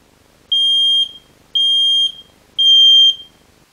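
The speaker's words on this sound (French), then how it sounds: "je vais activer l'alarme test" A smoke detector fire alarm in test mode emits three loud, piercing electronic beeps, each about half a second long, evenly spaced with short silences between them.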